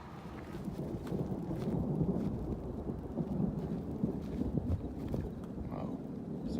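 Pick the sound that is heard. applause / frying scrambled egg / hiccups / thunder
thunder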